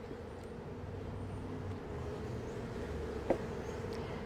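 A three-pound package of honeybees being installed into a hive gives off a steady low drone of buzzing, with a single sharp knock near the end.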